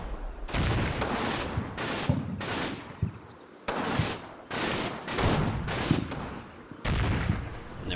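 Gunfire in the Combat Mission wargame arrives as a series of sharp, loud shots and short bursts spaced irregularly across several seconds, with brief quieter gaps between them.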